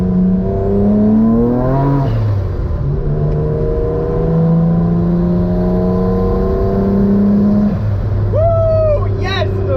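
A twin-engine Toyota MX3 car revs and pulls hard, its engine pitch climbing and shifting in long, loud sweeping tones that stay continuous and close throughout.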